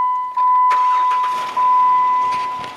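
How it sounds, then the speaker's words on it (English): A Jeep Wrangler JKU engine cranks briefly and fires up after fuel pump and tank work, followed by a steady idle with a loud sharp start onset and faint background noise throughout. "Fires right up."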